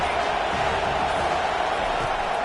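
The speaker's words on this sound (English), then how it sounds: "listen to this crowd roar" A stadium crowd roars in a USC versus Tennessee college football video game, a dense, steady wash of noise that holds evenly throughout.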